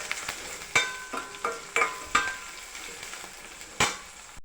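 Green chillies frying lightly in a pan for gongura pachadi, a soft background sizzle punctuated by several sharp spatula clinks and scrapes at irregular intervals.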